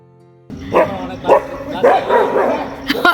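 Neighbourhood dogs bark several times in close succession, near and loud, with a few yips between the barks.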